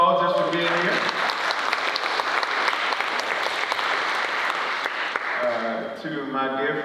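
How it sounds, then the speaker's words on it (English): Students at a convocation lecture burst into a full round of applause, dense and sustained for several seconds, with a speaker's voice briefly heard before it and again as it fades. "Give yourselves a big round of applause just for being here."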